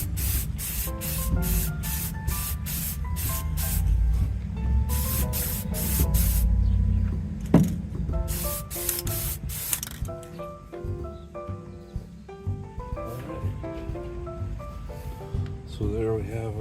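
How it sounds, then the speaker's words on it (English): Gloss clear coat sprays from an aerosol can onto a WW2 M1 paratrooper helmet liner in repeated short hissing bursts, loud and close, with a person talking between some passes. "I got the gloss clear coat."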